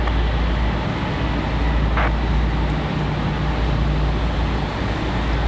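Southwest airliner touching down on runway 23 left at Raleigh-Durham on a windy day, a steady loud roar of jet engine and wind noise that holds for the whole stretch, with one brief faint tone partway through.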